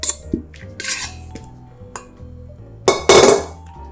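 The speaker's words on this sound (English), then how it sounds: "Scrape the dough out from the mixing bowl" Sourdough bagel dough scraped out of a mixing bowl, with a few sharp clinks and knocks of a utensil against the bowl, then a louder scraping rush near the end, close by and with no talk.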